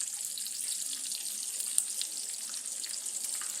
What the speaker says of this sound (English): I think I'll turn on the range hood just a little bit.